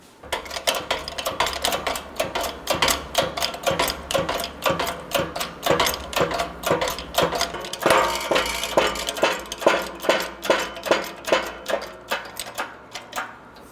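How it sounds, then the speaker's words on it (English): A shop press pushes a new wheel bearing into the front steering knuckle of a 2011-2014 Hyundai Sonata, with a loud, regular train of sharp clacks and knocks repeating steadily for over ten seconds. "We're going to press the new bearing into the knuckle, get it set up in the press."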